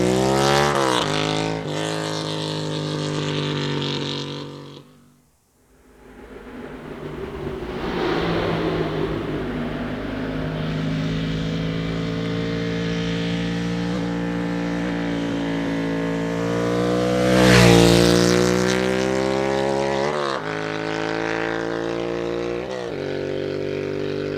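A Ducati 750 F1 motorcycle engine idles and revs near the mic, dipping briefly as the throttle drops, then climbing again to a louder rev before settling.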